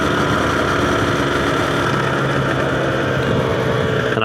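A Yamaha TZR 250R motorcycle engine runs on a cold day, a steady, loud, buzzy mid-pitched drone with a constant vibration and no voices.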